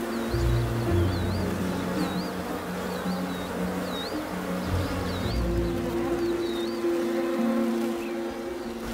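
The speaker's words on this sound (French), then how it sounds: "Les abeilles peuvent parcourir plusieurs kilomètres pour du nectar." Bees buzzing around a sausage tree in Zambia, where a swarm nests in the trunk; a steady, close insect drone with low hum layered under high chirping birdsong.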